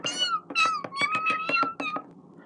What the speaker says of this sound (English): There was a tiny kitten named Gypsy.